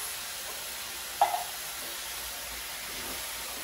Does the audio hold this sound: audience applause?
no